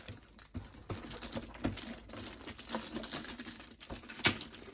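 Crinkling and tapping as plastic packaging is handled and opened on a Super7 Simpsons Ultimates Deep Space Homer action figure, with irregular close rustles, clicks and a sharper snap near the end, no talking.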